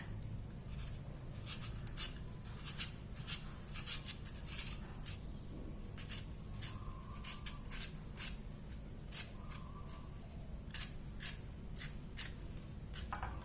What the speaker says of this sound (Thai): อันนี้เราก็จะใช้ที่ปอกผลไม้เลยค่ะ